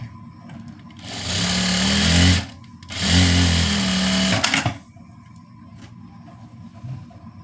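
A tailor's sewing machine joins the sleeve of a chudidar in two close, loud bursts of fast whirring stitching, each about a second and a half long with a short pause between, then a few clicks and quiet.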